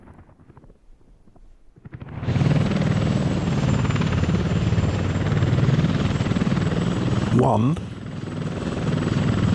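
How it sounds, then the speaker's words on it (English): A passenger helicopter in the game Workers & Resources: Soviet Republic starts up with a loud, steady rotor roar that holds throughout, and one short spoken word cuts in near the end. "Here's a passenger helicopter."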